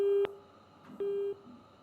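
Telephone busy tone after a dropped call, two steady beeps of the same pitch separated by a short gap, thin and fairly quiet, with no voices.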